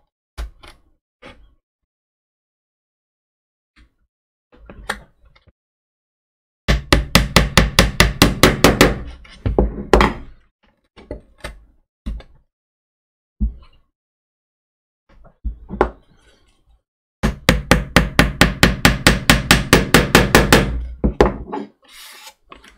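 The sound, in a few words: small clamps squeezed onto wooden model ship hull planking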